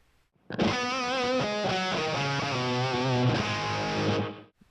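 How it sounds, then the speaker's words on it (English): Distorted electric guitar through a POD HD500X with reverb and tape echo, set for a Van Halen tone, playing a loud sustained phrase of bends and held notes that rings on alone before cutting off. "Now with reverb and tape echo."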